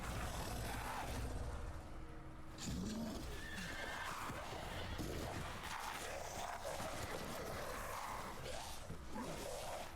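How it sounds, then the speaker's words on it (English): A horse in the video game Resident Evil Village gives a loud, close whinny over a dense, noisy backdrop that fills the whole stretch. "Yeah, they can ride horses in this one."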